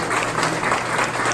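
Congregation at a Spanish-language church service at María Mensajera breaks into a dense, steady round of applause, continuous and fairly loud throughout, with no clear voices.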